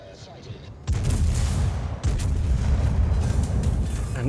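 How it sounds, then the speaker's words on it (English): HMS Hood's front turrets firing in the naval battle game World of Warships, a sudden heavy boom followed by a second deep blast about a second later, each leaving a long, rumbling roar that fills the rest. "I'm gonna only fire front turrets here."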